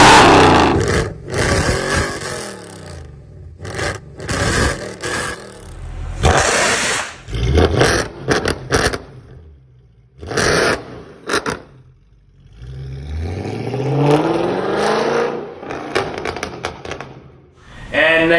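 Mercedes C63 AMG W204 V8 on straight pipes with VRP headers, cat and resonator deleted, barks and revs loudly in repeated bursts while driving around town, with the engine dropping away between pulls.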